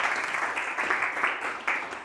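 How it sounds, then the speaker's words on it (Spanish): Audience at an environmental communication forum applauds, a steady brief burst of clapping from a crowd. "Un aplauso para Vera por este pequeño sondeo."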